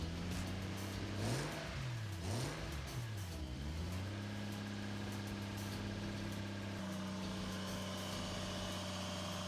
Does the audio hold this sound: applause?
no